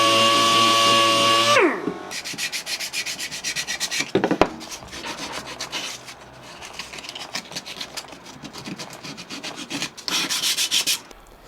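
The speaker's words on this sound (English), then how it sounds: "This then needs a good sanding" Wood being sanded by hand for a homemade Christmas gift, close and loud, with repeated rhythmic rubbing strokes that pause briefly and then resume.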